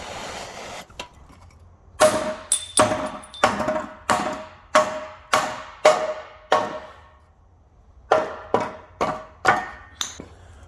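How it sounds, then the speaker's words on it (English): Hammer blows strike heated parts being driven out of an Alfa Romeo 155 car subframe: a steady series of sharp, ringing metallic hits roughly every half second, a pause, then a few more blows, loud and close with no talk. "I'm going to put plenty of heat around them and then hit them with a hammer"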